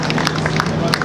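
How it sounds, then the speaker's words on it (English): A seated audience at an evening event in Nigeria applauds a guest with brief, steady clapping over a low hum. "Please give him a round of applause."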